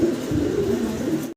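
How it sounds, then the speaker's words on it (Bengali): Mundian pigeons, a blue checker pair of male and female, coo softly and continuously in a farm loft, a low steady murmur close by. "মুন্ডিয়ান কবুতর দেখাচ্ছি"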